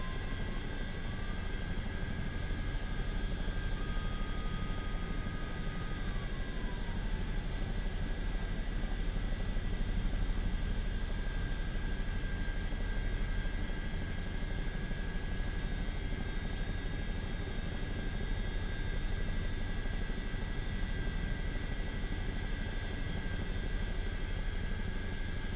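Chinook helicopter engines spooling up in Microsoft Flight Simulator 2024, a steady droning turbine hum with a rising then falling whine early on, even and continuous for the whole stretch.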